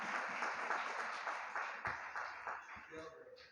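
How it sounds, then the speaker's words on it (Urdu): A church congregation at a sermon service breaks into applause, a dense, fairly faint clatter of many hands that gradually tapers off, with voices mixed in underneath. "زوردار تالیاں۔"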